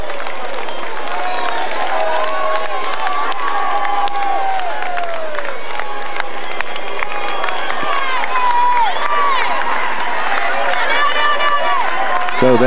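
Roadside crowd at a Tour de France stage cheering and whistling as the riders pass, a loud, constant wall of shouts and whoops close by, with a commentator's voice underneath.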